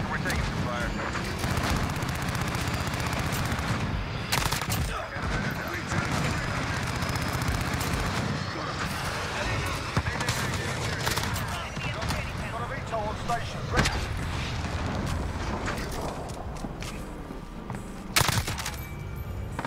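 Sustained automatic fire from a Kilo 141 rifle with a 100-round magazine in Modern Warfare, dense bursts and booms running continuously with a player talking over the gunfire.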